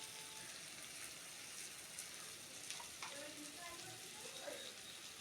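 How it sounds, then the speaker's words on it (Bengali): Grated ginger and garlic paste fries in a pan as the base for a katla fish curry with potatoes, a steady soft sizzle that continues evenly throughout with faint stirring. "এটাকে ভালো মতো কষিয়ে নেব, যাতে আদা রসুনের কাঁচা গন্ধটা চলে যায়"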